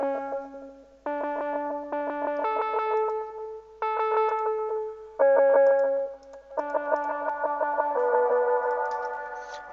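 A dry synth in FL Studio with its reverb removed plays a choppy sequence of bright, buzzy chords, each block starting abruptly and cutting off, with a distorted, slightly echoing edge and no voices.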